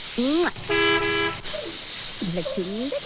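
Several short car horn toots sound close by, one long honk in the middle, over steady background noise.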